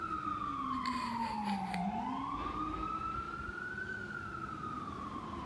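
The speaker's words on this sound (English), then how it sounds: "All the time I hear these fucking ambulances coming by" An ambulance siren wails steadily, its pitch sliding down then rising again as it passes, loud and continuous over low road rumble.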